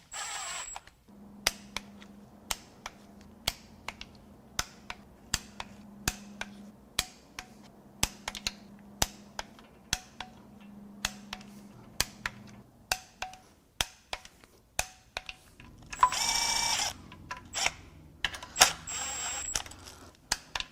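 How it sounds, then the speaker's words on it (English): Torque wrench tightening bolts on a 3.6L Pentastar V6 engine during reassembly, giving a steady series of sharp ratcheting clicks close by, with a brief burst of noise near the end. "Okay, now I have to torque these down."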